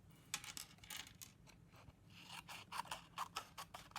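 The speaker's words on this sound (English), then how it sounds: "I'm going to cut it on a diagonal" Scissors snip card on a diagonal for a strawberry greeting card, a series of quiet, close crisp cuts in an uneven rhythm.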